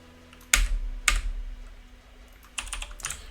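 A few separate keystrokes on a computer keyboard, used to set controls for a BBC Micro retro game, click sharply and close in a quiet room, two single taps followed by a quick short cluster.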